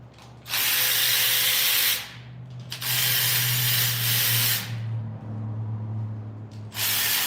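A ratchet works the bolts off the valve cover of a Subaru WRX engine during a 150k service, heard as three long bursts of fast mechanical clicking separated by short pauses.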